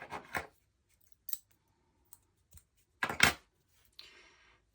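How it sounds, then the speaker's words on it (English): Scissors snip through yarn after a crocheted row is finished: a few quiet, sharp, separate cuts with short gaps, including a closer double snip, then a faint rustle of handling. "then cut my yarn"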